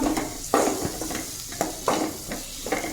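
Chili powder and coriander powder are sautéed in a pan, giving a soft sizzle broken by several sharp scrapes and taps of a spatula on the metal, close up.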